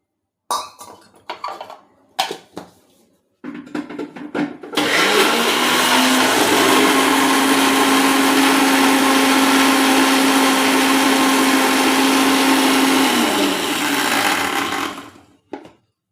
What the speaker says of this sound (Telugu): కొంచెం వాటర్ వేసుకొని మిక్సీ పట్టుకోవాలి